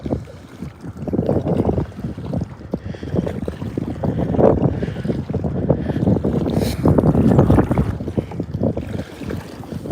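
Strong wind buffeting the microphone while boating on a lake, a loud, steady roar with gusty surges, close and continuous, with no talking.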